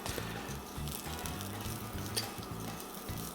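Fideo noodles browning in a hot pan for sopa de fideo, giving a steady close sizzle and crackle with faint stirring scrapes and no talk.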